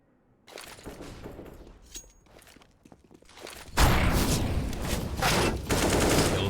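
Counter-Strike on the Dust 2 map: soft footsteps and scattered shots give way to a loud, sustained burst of rapid gunfire that carries on through the second half.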